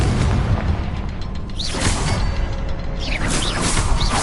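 Bombarda and Confringo spell blasts from Hogwarts Legacy erupt in quick succession, two loud rumbling bursts with whooshing swishes over a constant low roar.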